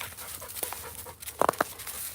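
A Rottweiler and a pit bull breathe and pant nearby outdoors, soft quick huffs running throughout, with a few sharper, louder whimpering or sniffing bursts near the end.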